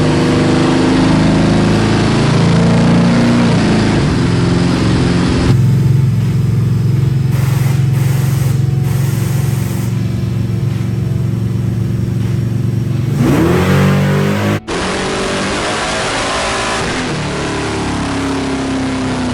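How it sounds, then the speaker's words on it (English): A nitrous-equipped car revs hard on a dyno, the engine roaring loud and steady with a pitch shift mid-run and a sharp cutoff near the end before the drone continues. "Then we turned the nitrous kit on."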